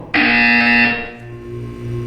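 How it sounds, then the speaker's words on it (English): A loud, harsh electronic buzzer in the video game Portal 2 blares for about a second, then cuts off, leaving a low hum. "When you hear the buzzer, look up at the ceiling."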